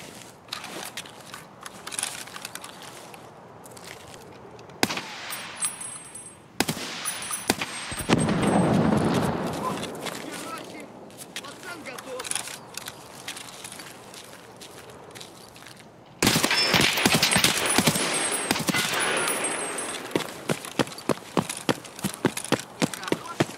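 Escape From Tarkov firefight: scattered sharp gunshot cracks, single and in quick clusters, over shifting footsteps and rustling, with a denser, louder volley of shots near the end.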